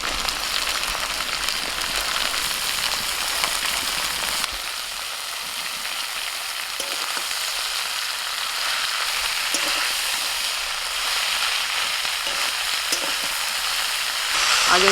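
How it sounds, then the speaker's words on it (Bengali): Cabbage frying in a pan with ginger and green chilli paste, a steady broadband sizzle running throughout, close and fairly loud with occasional stirring scrapes. "আদার কাঁচা লঙ্কাটা একটু ভাজা হলেই দিয়ে দিচ্ছি বাঁধাকপি"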